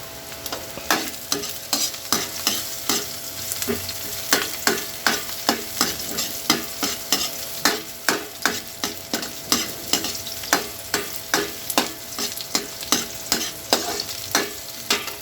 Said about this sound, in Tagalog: Sabay na po natin yung paminta para mabango po siya habang na po na ro-roast